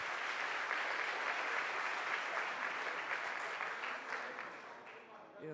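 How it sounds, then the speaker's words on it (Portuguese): A church congregation applauds during a Sunday service, a faint but dense, steady patter of many hands that tapers off near the end, with voices mixed in. "dar um aplauso ao Senhor pela vida dele"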